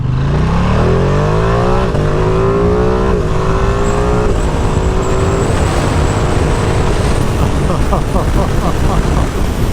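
A 2022 Ducati Streetfighter V2 motorcycle engine at full throttle, loud and continuous, pitch climbing then dropping sharply with each quick-shifter upshift as it pulls through several gears.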